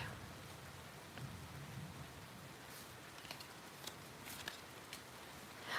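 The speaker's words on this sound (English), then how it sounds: "And now the rain just picked up." Steady rain falling outdoors, a soft continuous hiss with scattered sharper droplet ticks and a slight swell toward the end, fairly faint and with no talking.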